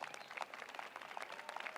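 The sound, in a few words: audience applause at the White House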